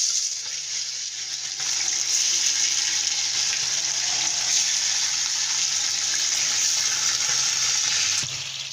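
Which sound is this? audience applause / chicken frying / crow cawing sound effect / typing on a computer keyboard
chicken frying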